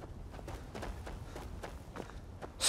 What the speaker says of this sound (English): I say that can't be my footsteps lumbering around.